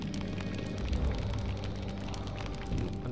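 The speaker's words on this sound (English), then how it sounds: "a shower of rain tumbles over them" A rain shower in the video game Burly Men At Sea patters and crackles steadily with a low rumble underneath, a dense wash of drops that stays even throughout.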